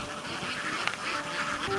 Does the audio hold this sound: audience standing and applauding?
no